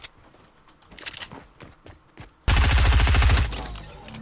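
Sub-machine gun fire in a shooter video game: scattered fainter shots at first, then a loud, close, rapid burst lasting about a second before trailing off.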